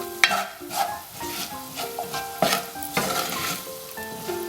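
Corn grit cooking in a pan is stirred with repeated scraping strokes over a soft, continuous sizzle, close by and moderately loud.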